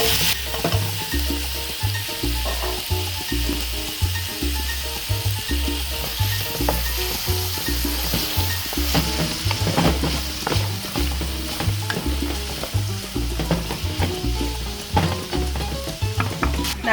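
Vegetables frying and being stirred in a pot after onions have caramelized for arroz con pollo, a continuous close sizzle with repeated scraping stirs throughout.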